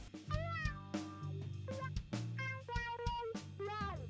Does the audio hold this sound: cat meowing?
yes